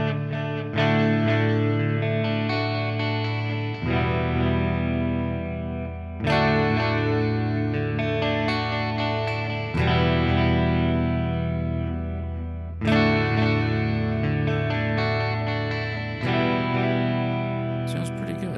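An electric guitar played through the Audio Assault Sigma EX amp sim with vibrato, distortion and chorus, sustained chords struck every few seconds and ringing out, loud and close with no talking.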